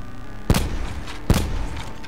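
Gunfire in Call of Duty Blackout, a battle royale shooter: two sharp, loud single shots about 0.8 seconds apart, each a hard broadband crack with a short tail, over a low steady background hum.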